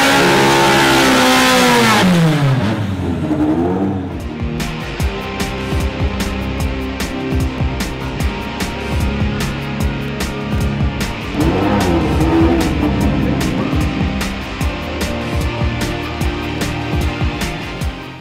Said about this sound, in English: drivers can warm and clean their tyres by doing a burnout